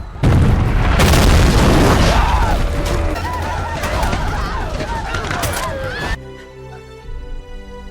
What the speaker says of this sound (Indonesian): mereka menembakkan senjata yang membuat pemukiman porak-poranda